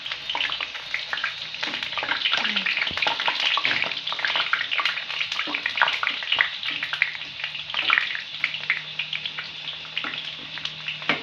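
Pakodi fry in hot oil with a steady, dense sizzle and crackle that runs unbroken throughout, close and fairly loud, with scattered small pops and no talking.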